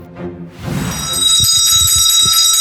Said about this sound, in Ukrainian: Таким був перший дзвоник для цьогорічних першокласників